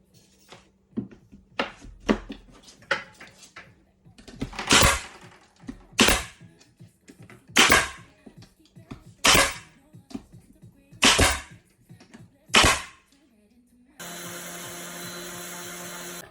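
A pneumatic nail gun fires finishing nails into shiplap planks in a laundry room, with about eight sharp, loud bangs spaced a second or so apart among small taps and handling clatter, ending in a steady hiss.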